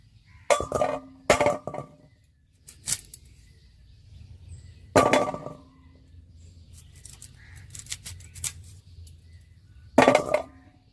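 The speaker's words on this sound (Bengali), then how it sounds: "এবারে কেটে নেব এরকম দু টুকরো করে নেব" Knife cutting washed hog plums (amra) in half on a board, a few sharp separated chops and clicks, some in quick pairs, with quiet gaps and faint background hiss between them.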